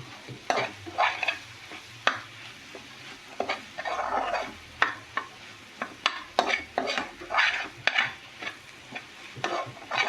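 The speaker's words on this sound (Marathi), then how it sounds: "व्यवस्थित सगळे मसाले परतवून घ्या" Spices for prawn masala stirred and sautéed in a hot pan, a soft sizzle broken by repeated scraping and clacking of a spoon against the pan in an irregular rhythm, close and fairly loud.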